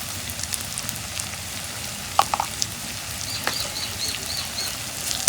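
Salt and cumin spices fry in hot oil for a leftover-rice fry dish, a steady close sizzle with a few sharp crackles and pops scattered through it.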